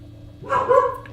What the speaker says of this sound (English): Scared dog.